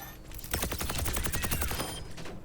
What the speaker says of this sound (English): because of how fast it fires, it's actually really good at like whittling down shields and barriers, like Reinhardt's shield or Sigma's shield.